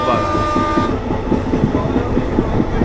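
A local passenger train in India rolls on with a loud, steady rumble and rhythmic clickety-clack heard from inside a carriage, with a brief whistle-like tone at the start.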